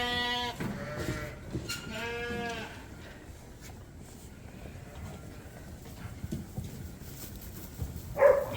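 Dorset sheep and lambs in farm pens bleat loudly at the start, with a second burst of bleating around two seconds, followed by quieter pen noise and one brief higher call near the end.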